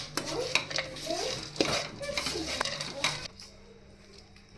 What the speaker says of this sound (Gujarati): હવે ખજૂરને આપણે ડ્રાયફ્રૂટ સાથે એકદમ સરસ રીતે મિક્સ કરી લેશું.